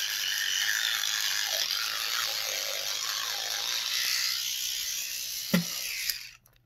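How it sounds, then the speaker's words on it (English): Electric spinning toothbrush brushing teeth, a steady mechanical whirring buzz held for several seconds close by, then cutting off abruptly at the end with a brief clack. "I recommend y'all get a toothbrush like this one."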